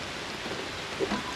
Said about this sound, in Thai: ฝนตกพ่อแม่พี่น้องเลย